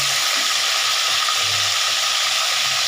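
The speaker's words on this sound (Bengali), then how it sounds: "চারটে করে করে আমি ভাজছি" Pieces of katla fish frying in hot oil, a loud, close, dense sizzle hissing steadily without pause.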